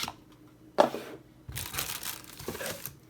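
Packaging of an iBox Dox speaker box for the Amazon Echo Dot is opened, with a sharp crinkle followed by longer bursts of plastic and cardboard rustling, close and fairly loud.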